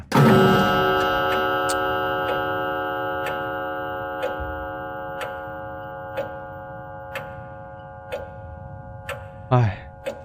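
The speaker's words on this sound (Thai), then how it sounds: "โอ้โหเสียงนาฬิกา" A clock in the horror video game The Lost Fear ticks steadily, about one tick per second, loud and close over a sustained tonal drone, with a brief voice near the end.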